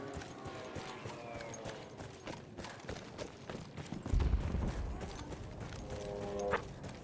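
Rapid hoofbeats clatter continuously as horses run in Battlefield 1, with a heavier thud midway and a brief whinny near the end.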